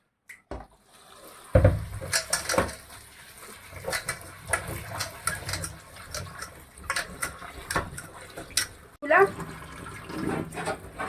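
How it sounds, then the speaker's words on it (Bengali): Chopped vegetables and gourd leaves being washed in a bowl, intermittent splashes, sloshing and trickles of water with clatters of handling between pauses, close and moderately quiet. "এবার আমি সবজিগুলোকে ধুয়ে নেব"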